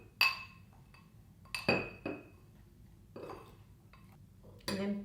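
Baked apple filling being mixed in a bowl, giving a few separate clinks of a utensil against the dish, spaced irregularly and fairly close, with no talk.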